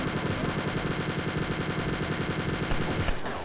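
Rapid automatic gunfire from Wolfenstein 3D, a dense continuous rattle of shots sustained for several seconds, loud and alone with no talk.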